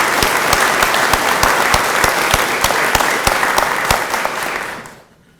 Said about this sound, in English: Let's give her a huge round of applause for her leadership.